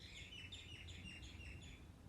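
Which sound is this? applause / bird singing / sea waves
bird singing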